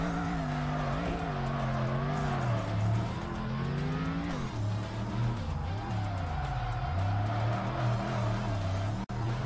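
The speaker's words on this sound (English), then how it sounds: "Crazy we're drifting in GTO" A GTO drifting in Tokyo Xtreme Racer Drift 2, its engine droning and rising and falling in pitch while tires squeal in long, wavering slides, loud and close throughout, ending with a brief sharp click.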